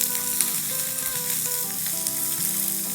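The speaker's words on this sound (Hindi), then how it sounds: "और डाल देंगे इसमें ये हमारी बड़ी वाली जो मिर्चें हमने काटी थी ना, वो और शिमला मिर्च। इसको 30 सेकंड सौटे करेंगे।" Chopped chillies and capsicum sauté in a hot pan with a constant, close sizzle, broken by light stirring scrapes and small shifts in the crackle.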